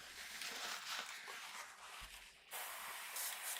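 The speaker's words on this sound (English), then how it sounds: "So make sure it's spraying clear." An aerosol can sprays in hissing bursts, with a brief pause and a louder, sharper spray near the end.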